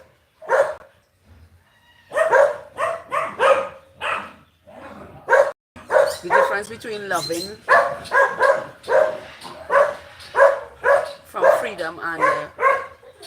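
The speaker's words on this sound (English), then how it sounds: "Please excuse the dogs and them." A dog barks repeatedly in the background while a person speaks continuously over it, the yips and barks mixed in with the talking.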